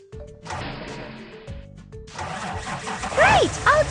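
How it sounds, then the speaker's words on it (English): A school bus engine starting in a preschool kids' video game: a cartoonish starter whir and clunk, then the motor catches into a steady running rumble, with bright chirpy game effects near the end. "Turn on the engine."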